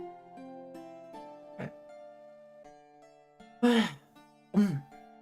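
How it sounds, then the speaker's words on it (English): A couple of short, harsh throat-clearing bursts break through a quiet background with a faint sustained tone. "I need to clear my throat."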